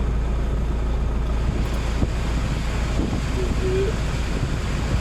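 A Peugeot Expert 1.6 HDi 2008 cabin ventilation blower motor running at its first speed setting gives a steady, even whooshing hum of moving air, continuous and fairly close throughout.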